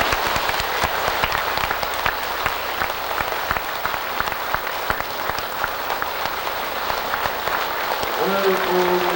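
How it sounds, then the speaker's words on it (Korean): Large assembly of Buddhist monks and laypeople clapping warmly as a Seon master leaves a dharma hall ceremony, dense steady applause throughout, with a faint voice emerging near the end. "사부대중께서는 큰 박수로 대응해 주시면 대단히"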